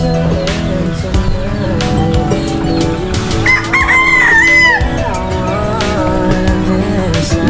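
Chickens at a farm raising fighting cocks cluck steadily while a rooster crows loudly and close by, with other birds calling in the background of an open morning yard.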